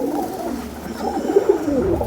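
Pigeon cooing close by, low throaty rolling coos repeating in a soft rhythm over faint background noise.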